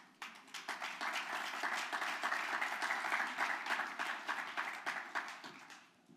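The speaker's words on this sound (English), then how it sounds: "please join me in a round of applause as we welcome them to the stage" An audience at a business energy summit applauds as panelists are welcomed to the stage, steady dense clapping that starts abruptly and tapers off near the end.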